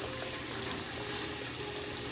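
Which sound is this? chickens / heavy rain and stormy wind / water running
water running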